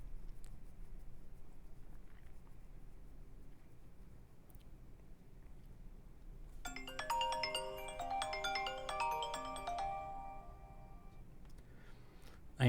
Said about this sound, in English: So you're going to hear my cell phone ring.